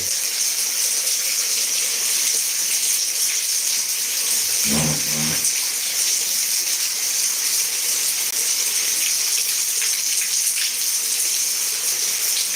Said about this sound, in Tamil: மழை பெஞ்சிட்ருக்கு கோயம்புத்தூரில் சூலூரில் மழை பெஞ்சிட்ருக்கு